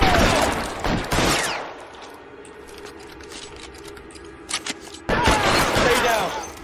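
Gunfire in L.A. Noire during a shootout on a traffic case, dense loud volleys at the start and again near the end with quieter scattered shots and rumble between.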